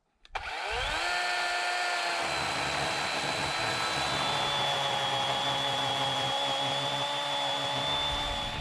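A power saw spins up sharply and holds a loud, steady whining buzz as it cuts into a fallen tree blocking a road outdoors, running continuously with no talk.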